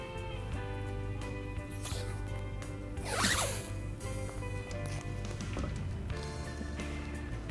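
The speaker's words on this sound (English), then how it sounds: "I'll add another piece of tape to the top here just to make sure it's covered." Masking tape pulled off a roll and pressed onto granite before sandblasting, with one sharp ripping pull in the middle among softer rubbing sounds over a steady background hum.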